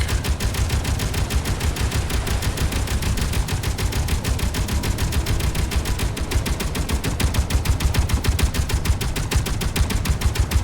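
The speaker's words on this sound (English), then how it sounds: "they're like shotgun firing at the Bronco" Rapid, sustained gunfire rattles loudly and evenly, a near, continuous burst of shots aimed at the Bronco during a Space Engineers battle.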